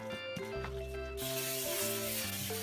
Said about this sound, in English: Spray it with the cooking spray so nothing sticks.